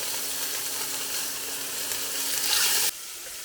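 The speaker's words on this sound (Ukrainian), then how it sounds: "Обсмажу злегка шматочки м'яса." Pieces of meat browning in heated oil in a frying pan make a loud, steady sizzle that rises slightly before cutting to a quieter hiss near the end, with no talking.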